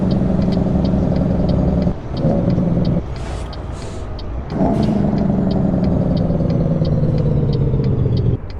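Kenworth W900 truck engine in American Truck Simulator, loud and continuous, revving with a steady rumble and whine. It dips briefly twice, as if shifting gear, then holds under strain.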